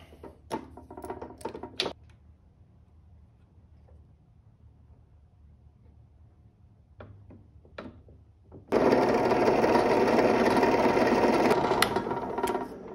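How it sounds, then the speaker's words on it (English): A hand drill with a larger bit bores a pilot hole in a hard metal fingernail clipper: a few sharp taps and knocks, a quiet stretch, then a loud, steady, grinding motor whine that runs to the end. "I'm gonna try the pilot hole with a bigger bit now."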